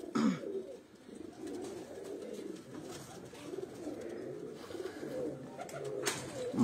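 Breeder pigeons coo softly and repeatedly in a low murmuring chorus, a steady close-up burble with some brief chirps and faint background noise.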